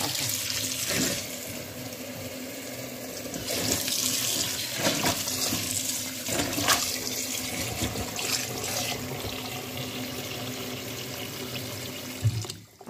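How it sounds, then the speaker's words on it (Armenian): Cold tap water runs steadily into a sink over a boiled salad just lifted from boiling water, a continuous close splashing stream lasting throughout with no talk. "Հիմա աղցանի վրա սառը ջուր ենք լցնում"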